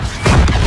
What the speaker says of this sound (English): Oh, enemy artillery.